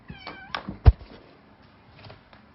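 A house cat meows near open assisted-opening knives, a few short, faint meows close by with a soft thunk in the middle, then quiet.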